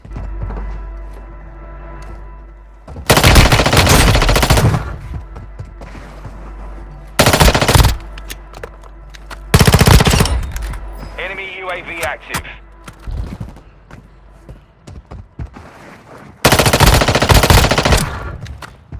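P-90 submachine gun fire in the shooter game Warzone Mobile, loud rapid automatic bursts in four separate spurts with quieter game ambience and a player's voice between them.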